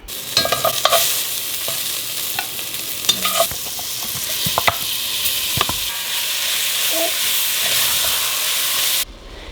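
Asparagus and mixed vegetables sizzle steadily in a hot pan, with a bright continuous frying hiss broken by scattered clicks and scrapes of stirring, close and fairly loud, cutting off near the end.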